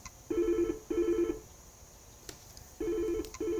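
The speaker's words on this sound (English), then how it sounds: "My phones are not supposed to be ringing yet." Telephone ringing indoors in repeated double bursts of an electronic trill, two rings close together, a pause, then two more, fairly loud with a faint click between.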